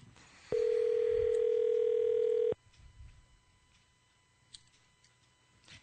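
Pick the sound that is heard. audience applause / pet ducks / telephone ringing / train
telephone ringing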